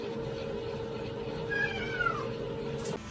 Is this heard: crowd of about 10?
no